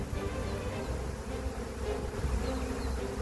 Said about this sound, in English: This is what it's like to be inside a swarm, by the way. My entire tree is coated with these bees.